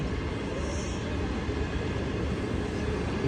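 A long train rolls past near the Thai border close to Luang Prabang, a steady, loud broadband rumble with no breaks and no speech throughout.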